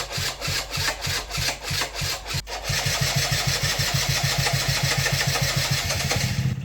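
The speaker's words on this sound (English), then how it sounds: "So this is the best that I've had the Yamaha slider starting up" A Yamaha Slider scooter engine cranks with rhythmic, uneven chugs, then catches and settles into a fast, steady idle, close and loud.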